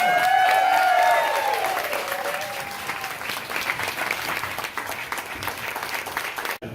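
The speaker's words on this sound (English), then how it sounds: "Let's hear it for Bingo O'Malley" A theater audience bursts into sustained applause and clapping for a veteran actor being honored, with a few voices briefly audible at the start, fading slightly but continuing to the end.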